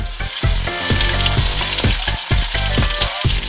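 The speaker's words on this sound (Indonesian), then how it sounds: "langsung kita tumis rica-rica keongnya" Loud, close sizzling of ground spices and lemongrass frying in a pan for rica-rica snails, a dense continuous hiss broken by rhythmic thumps and scrapes of stirring.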